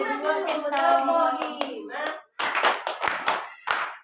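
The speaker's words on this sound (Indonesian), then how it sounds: "Tepuk 5 kali." A voice speaks first, then a group of children claps in quick, uneven bursts, several claps close together, nearby and fairly loud.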